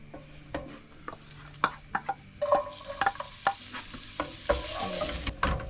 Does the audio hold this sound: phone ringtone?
no